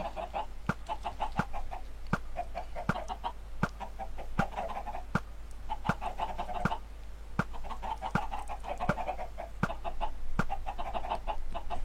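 Clucking chickens in a Minecraft egg farm, repeated short clucks over a steady low hum, punctuated by regular sharp clicks through the sound, with no talk.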